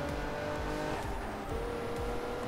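Race cars in the Crash Time 5 driving game roar steadily at close range, with engine tones shifting as they jostle, plus brief tire squeal and skidding; no talking.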